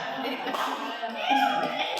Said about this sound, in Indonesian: kita tepuk tangan dulu untuk keyakinan kelas